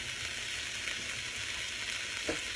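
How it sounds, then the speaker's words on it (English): White onion fries in olive oil in a pan for a shrimp stir-fry, giving a steady, even sizzle that runs throughout at moderate level, with a brief faint clink near the end. "So now that I got that cooking and I can see my white onion start to get a little translucent"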